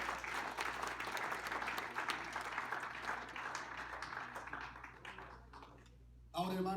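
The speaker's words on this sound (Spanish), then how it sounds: "Denle un aplauso al Señor esta noche." A church congregation applauds during a Spanish-language service. Broad, loud clapping fills most of the clip, thins out toward the end, and a voice cuts in sharply just before it ends.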